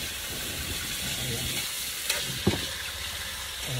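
Green papaya sautéing in a pan, a continuous soft sizzle and hiss with faint stirring scrapes at a moderate distance.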